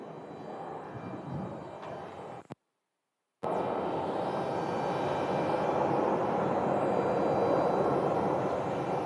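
An Embraer 175 jet on flight 3874 from Reno at Phoenix Sky Harbor Airport, its engines a steady loud roar that cuts out briefly then returns and holds.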